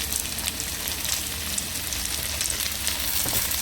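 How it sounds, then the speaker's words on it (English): Carrots hitting hot oil in a pot for cow foot stew, a dense, loud, continuous sizzle and crackle with faint stirring, no voices. "Alright, I'm going to add the carrots now."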